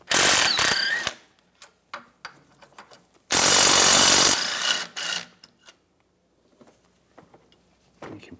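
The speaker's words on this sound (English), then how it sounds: "I'm gonna use a 13mm socket. Take these two bolts off for the sway bar." Ratchet with a 13mm socket loosening sway bar bolts on a 2009-2013 BMW 328i xDrive with a 3.0L inline-six, giving two loud bursts of rapid clicking followed by scattered short metallic clicks and taps, close up.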